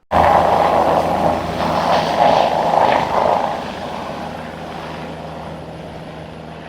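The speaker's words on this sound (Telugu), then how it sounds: "హెలికాప్టర్ వెళ్ళిపోతుందండి" A passenger helicopter lifts off at a crowded fairground landing site, its rotor and engine drone loud and close at first, then fading as it flies away.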